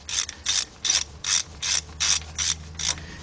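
A 3/8-inch drive ratchet with a 14mm deep socket tightening wheel stud nuts on a 2006 Kia Sorento 4WD front hub, giving eight evenly spaced rasping clicks at close range, no talk.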